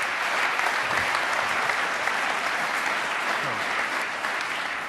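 Hearty audience applause in a hall welcomes a notary onto the stage, a dense steady wash of many hands clapping at full volume for the whole stretch, with no other sound standing out.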